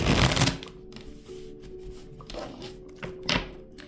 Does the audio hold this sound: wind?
no